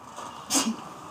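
A single quick, sharp sneeze bursts out briefly against a quiet, faintly noisy background.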